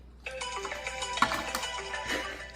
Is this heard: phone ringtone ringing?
yes